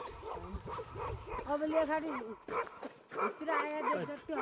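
A dog barks repeatedly at the last herders' shed high on a mountain ridge, the barks sounding fairly close amid people talking throughout.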